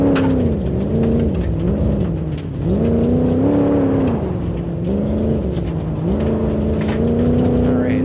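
An Oldsmobile Regency 4x4 driving in BeamNG.drive, its engine droning steadily and rising and falling in pitch with repeated throttle changes, loud and continuous throughout.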